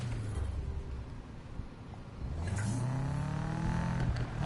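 Car engine at full throttle in Need for Speed 2015, a rising revving drone whose pitch climbs steadily as the car accelerates, loud and close, no talking.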